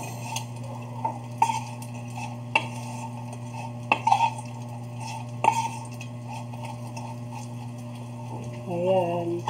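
Dried anchovies (dilis) cooking in a small pan, with a steady low hum behind sharp clinks of a utensil tapping and stirring against the pan at irregular intervals, and a brief burst of sizzling near the end.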